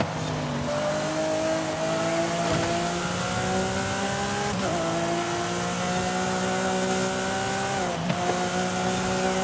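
Car engine in a racing video game revving through sustained straights, its steady harmonic drone climbing in pitch and dropping briefly at gear shifts, loud and continuous with no talk.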